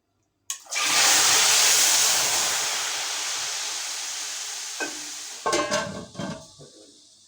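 Loud, steady sizzling as a spice tempering with paprika hits hot oil for nihari, bursting in abruptly and hissing continuously for several seconds, fading slightly, followed by a few clinks and stirring noises near the end.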